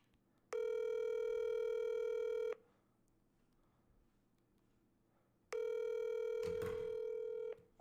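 Ringback tone on an outgoing telephone call: two loud, steady electronic rings of about two seconds each, separated by a three-second pause, with only faint background noise between them.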